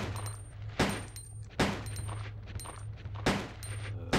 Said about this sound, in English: Six shots, it seems like, with this gun.